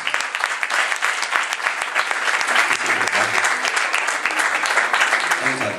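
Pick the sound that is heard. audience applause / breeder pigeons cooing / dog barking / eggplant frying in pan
audience applause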